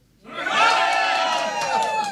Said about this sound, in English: The biggest cheer of the night is going to win, so let's hear it for Éireog.